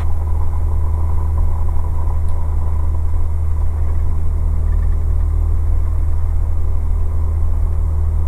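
A Cessna 172 engine drones steadily and loudly during the takeoff roll, a constant low, heavy hum with no break.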